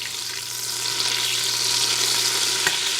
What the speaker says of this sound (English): You're going to melt your butter.